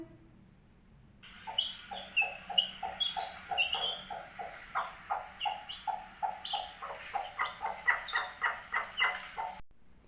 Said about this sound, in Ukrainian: Мама квокчка квокче біля своїх курчат.